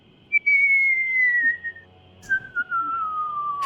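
A person whistles to imitate a catapult firing, two long clear descending whistles, close and loud, separated by a short pause.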